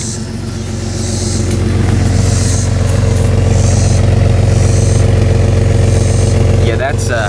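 Engine of a 2000 Jeep Cherokee XJ running too rich, a loud steady idle drone with a clattering texture, close by, that eases slightly near the end.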